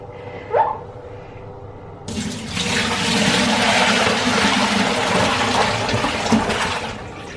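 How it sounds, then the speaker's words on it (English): Tap water runs steadily as cloth pads are rinsed, a close continuous splashing rush that starts abruptly after a quiet opening with a brief knock. "so we're just going to rinse all of these ones out."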